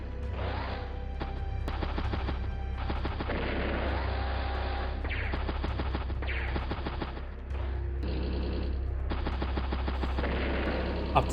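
Artillery shelling in the strategy video game Advance Wars: Days of Ruin, heard as repeated bursts of gunfire and booming impacts over a steady low game hum, with brief pauses between volleys.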